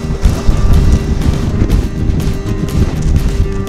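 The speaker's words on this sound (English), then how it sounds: "It's really windy out here at the Mount Pleasant Pier." Strong wind buffets the microphone in loud, continuous gusts on the Mount Pleasant Pier, a rough low roar with no voices.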